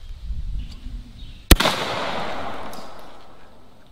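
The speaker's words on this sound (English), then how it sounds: "All right, let's do some skeet shooting." A single sharp blast from a Zeus 12 gauge shotgun fired at skeet, loud and close, followed by a long ringing decay outdoors.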